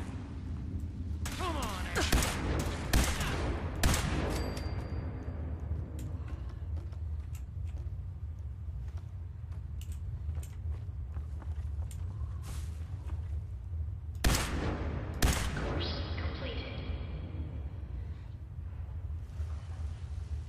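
Gunfire with incendiary rounds in the Fallout 4 video game: a quick cluster of sharp, booming shots early on, a long quieter stretch, then another burst of loud cracks, with talking in between.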